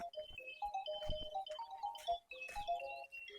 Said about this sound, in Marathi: काय दाजी तुम्हाला घडी घडी फोन येतो